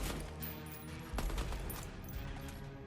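Continuous automatic gunfire in the shooter game Deadrop, rapid, evenly spaced shots close up with no one talking.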